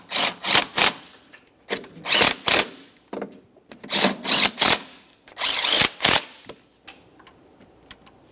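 Upper alternator bracket mounting bolts on a 2004-2008 Ford F-150 with the 5.4L V8 being run down with a power tool: repeated short buzzing bursts in clusters, close and fairly loud, with no talking.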